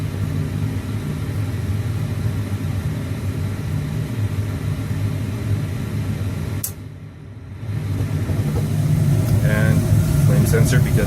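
A gas furnace burns steadily after glow plug ignition, a constant close rumble that briefly dips and cuts out, then resumes and grows slightly louder, with a few clicks near the end.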